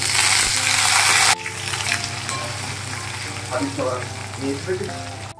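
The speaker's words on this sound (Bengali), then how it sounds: "আলু বড়ি ভাজা ভাজা প্রায় হয়ে গেছে" Potato pieces and bori (sun-dried lentil dumplings) fry in a pan for a curry, opening with a loud, close, hissing sizzle. The sizzle then drops to a softer crackle with utensil clatter and a voice speaking near the end.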